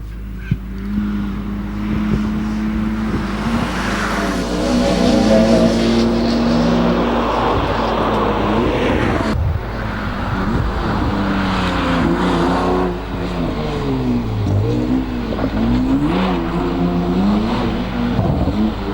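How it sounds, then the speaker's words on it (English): A Porsche 996 races up a Lake District hillclimb course toward the finish, its engine loud and close, revving hard and shifting through gears in repeated rising and falling sweeps for the full stretch, with no voices. "Looking at Mike Holland now in the Porsche 996 making his way to the finish line."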